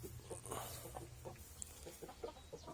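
Black Astor breeder chickens clucking in a pen, a string of soft, close, irregular clucks over a low rumbling background.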